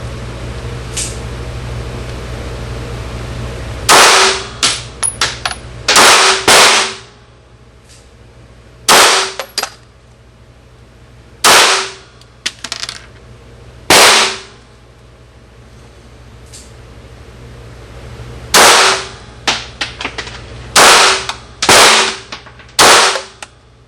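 Glock 17 pistol fired at an outdoor gun range: a dozen or so loud, sharp shots come singly and in quick pairs and triples, each with a brief ringing tail, separated by quiet gaps with a low steady background hum.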